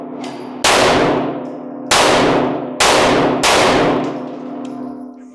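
Four loud, close shots from a new HK CC9 pistol, fired at an outdoor range at uneven intervals, each with a sharp crack and a long ringing decay.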